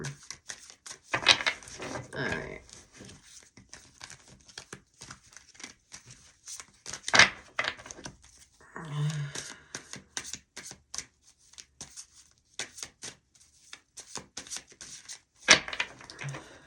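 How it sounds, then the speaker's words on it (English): Repeated riffling and soft slapping of tarot cards being shuffled, in bursts with brief pauses, close by; a voice speaks a couple of words. "I'm just shuffling some more here"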